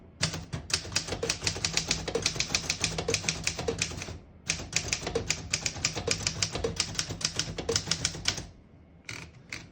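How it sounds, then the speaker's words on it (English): Rapid, steady keystrokes on a 1953 Underwood Deluxe portable typewriter, close and loud, typing a full line in bursts with a brief pause midway, a carriage-return or bell-like ring near the end. "I'll type a sentence on the next line."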